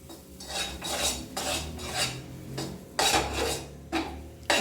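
Moong dal and wheat flour being sautéed in a pan over medium flame for Ashoka halwa, with a spoon scraping and clinking against the metal in repeated strokes, close and fairly loud, no talking.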